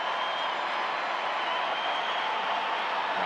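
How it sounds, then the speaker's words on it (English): A baseball stadium crowd in Texas swells into a steady, loud roar of cheering during a Cubs versus Rangers game, a dense, continuous wash of noise with no distinct claps. "Crowd getting loud here."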